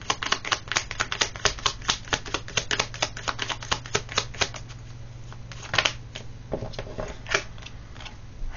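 Oracle cards are shuffled close up in rapid crisp riffling bursts, then drawn with slower, sparser flicks and slaps, with no talking.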